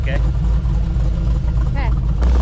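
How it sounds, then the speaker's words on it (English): A 1952 Chevy rolls along slowly with a low, steady engine rumble close by. Voices talk over it throughout. "You can put it in drive actually, just don't give it a bunch of gas."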